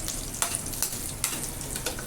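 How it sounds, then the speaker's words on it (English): Pumpkin pieces fry in oil with mustard seeds, curry leaves and cumin in a dense, loud, close sizzle, and a spoon stirring through them makes a few light scrapes. "I'll give the pumpkin a nice stir"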